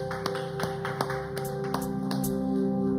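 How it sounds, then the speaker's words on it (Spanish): A church congregation claps in rhythm, a few sharp regular claps over sustained organ or keyboard chords, fairly quiet and steady throughout. "Le damos un aplauso al Señor."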